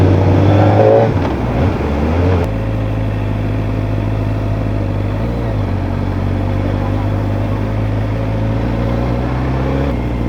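Kawasaki ZX4RR motorcycle engine droning steadily while riding near a seaside road, loud and close throughout, with a brief surge early on before settling into a constant hum.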